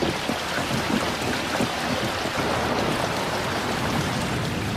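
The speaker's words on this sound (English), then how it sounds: "At the village of Floresta, the rains have already arrived." Heavy rain pours steadily at a riverside village of Floresta on the Amazon, a dense, loud hiss of drops with no voices and no breaks.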